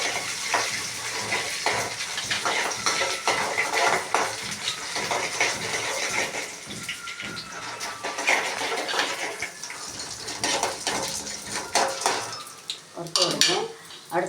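Chana dal and urad dal roast in a pan after mustard seeds have popped, a close, busy sizzle with repeated metal scraping and clatter of a spoon against the pan throughout, louder toward the end.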